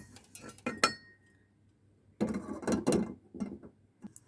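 A hamandista (metal mortar and pestle) clinks in a kitchen while okra is cooked with mustard paste and puti fish: a cluster of sharp metallic knocks, a pause, then a denser run of clanks and scrapes, fairly close.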